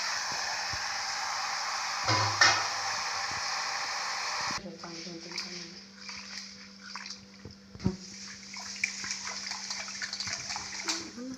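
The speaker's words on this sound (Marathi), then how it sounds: "चांगले स्वच्छ दोन ते पाण्या दोन ते तीन पाण्याने चांगले मस्त धुवून घ्या" Masoor lentils being washed in water, with sloshing and splashing in a vessel under steady running water, then quieter swishing while a person talks nearby.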